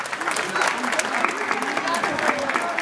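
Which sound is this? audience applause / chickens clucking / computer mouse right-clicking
audience applause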